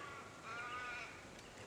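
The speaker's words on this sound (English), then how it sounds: "Probably hear some crows in the background there." Crows caw faintly in Australian bushland near Waroona, a few distant calls over quiet background hiss.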